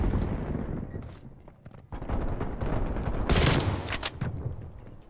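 Sentry turret fire in Call of Duty Black Ops Cold War team deathmatch, loud sustained bursts of automatic gunfire that swell and peak midway with sharp crackling shots.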